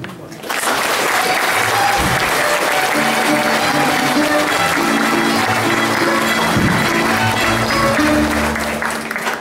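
Congregation applauding the choir and musicians with trumpets and guitarrón at a chapel inauguration in Santa Eulalia, Huehuetenango; sustained loud clapping starts after a brief pause, with a faint tonal hum or voices underneath.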